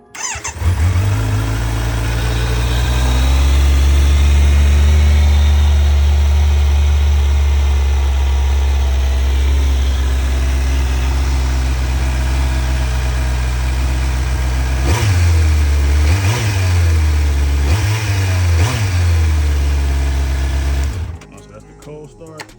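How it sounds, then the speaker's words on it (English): A Kawasaki Z900 motorcycle with a Leo Vince exhaust cold-starts and idles loudly and close, a deep steady rumble with a few quick throttle blips near the end before it shuts off. "We're gonna do a cold start just to see how she sounds before we get her all nice and different."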